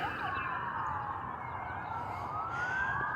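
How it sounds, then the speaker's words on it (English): Emergency vehicle sirens wailing continuously, loud and rising and falling in pitch, with several overlapping tones and no talking. "There's a lot of fucking sirens, man."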